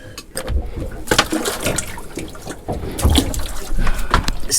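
Water rushes steadily into a boat's live well through an open plug hole, a continuous loud gurgling flow out on the Caribbean.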